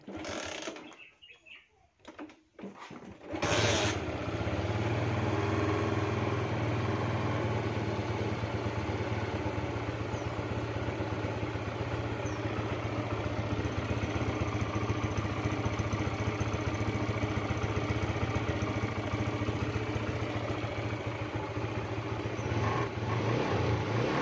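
A motorcycle with a dead dry-cell battery and no lights on is electric-started, cranking with a few sputters, then catches and settles into a steady, even idle that runs on unbroken.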